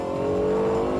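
The V10 engine of a Lexus LFA revs hard, a loud, steady, high-pitched howl with rich layered harmonics, heard close and continuous with no talking.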